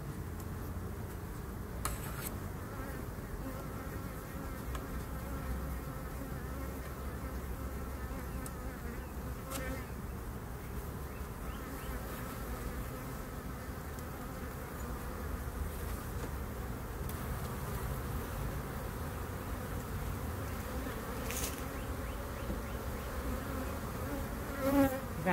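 Honeybees drone in a steady, soft, continuous buzz from an opened hive during an inspection done without smoke, with occasional faint taps and no talking.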